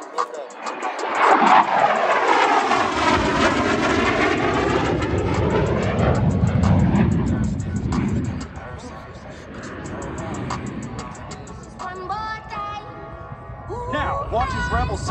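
An F-16 Viper jet performs at an air show in New Hampshire, its loud engine roaring and sweeping past with a rising and falling pitch. An announcer talks over the jet, and a faint distant roar continues near the end.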